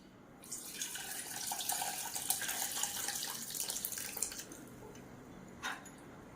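Water drained from cooked lentils pours and splashes steadily into a sink for several seconds, then tapers off to a trickle with a few drips.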